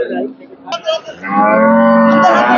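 A dairy cow at a cattle market moos loudly and close by, a short call followed by a long, sustained bellow.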